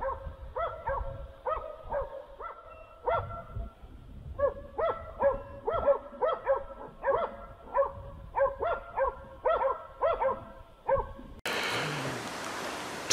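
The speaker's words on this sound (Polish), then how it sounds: "Psy płyną za łanią." Hunting dogs chase a deer during a red deer hunt, barking in rapid, repeated bursts that stay loud and fairly close, then a rush of broadband noise takes over at the end.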